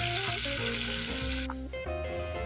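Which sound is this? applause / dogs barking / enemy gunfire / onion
onion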